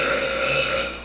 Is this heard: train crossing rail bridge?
no